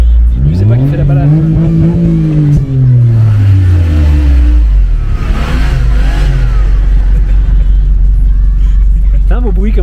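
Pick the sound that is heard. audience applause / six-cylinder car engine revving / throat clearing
six-cylinder car engine revving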